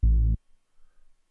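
A single short, deep, buzzy bass note from a Reese preset in the Serum synth, in an FL Studio beat, sounds loud and alone for a fraction of a second before cutting off into near silence.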